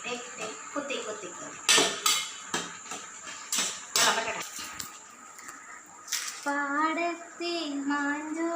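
A utensil pokes and knocks at food cooking in a pot, giving a handful of sharp, uneven clanks spread over several seconds, with a voice speaking nearby.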